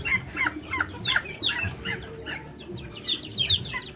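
Busy turkey calls, repeated clucking and squawking from several birds close by, overlapping one another in a steady barnyard chatter with no talking.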